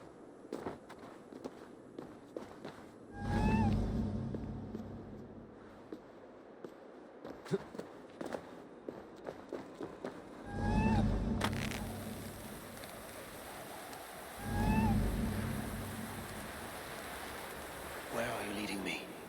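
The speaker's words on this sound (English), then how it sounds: "Okay, now I have to follow this cat." Three separate short meows from a cat in Assassin's Creed Valhalla, set in Asgard, come at spaced intervals over steady light footsteps and ambient game noise.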